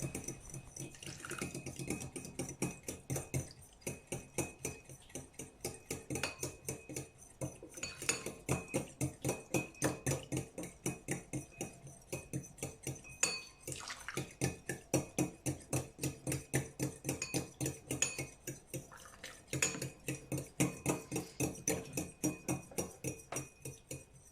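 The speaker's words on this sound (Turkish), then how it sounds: "Kaynamış tavuk suyumuzdan bir kepçe alalım ve terbiyemizin içerisine yavaş yavaş ekleyelim." A ladle taps and clinks rhythmically against a bowl for a long stretch as hot chicken broth is slowly added to an egg mixture, a steady fast whisking or stirring with brief pauses.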